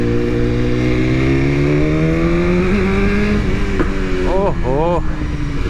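A BMW S1000RR sport motorcycle engine revs loudly and close, its pitch climbing steadily and then jumping in a few sharp throttle blips near the end, while a voice briefly exclaims over it.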